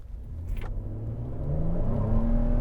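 A 2018 Ford F-150 XLT SuperCrew pulls hard from a standstill in sport mode, its engine note rising steadily into a loud, sustained growl as revs climb, with a brief tire squeal early on and no talking.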